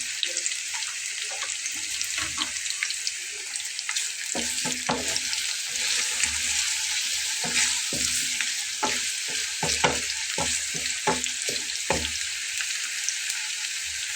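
Dried loitta fish frying with a whole garlic bulb in plenty of oil, a loud continuous sizzle with crackling pops and repeated spatula knocks and scrapes against the pan, nobody speaking.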